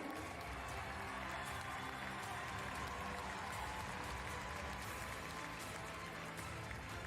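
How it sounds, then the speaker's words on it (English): Arena crowd applause at the FEI Driving World Cup carriage driving competition in Lyon, a dense, steady wash of clapping, faint and distant, continuing evenly without breaks. "Un tonnerre d'applaudissements aussi pour l'équipe de France, Benjamin Aillaud."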